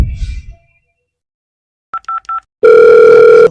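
A phone call goes through: after a short stretch of silence, three brief electronic beeps sound, then a steady, loud ringback tone holds to the end.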